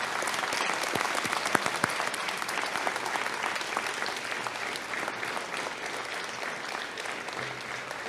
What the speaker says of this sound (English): give a sincere round of applause to those responsible for your success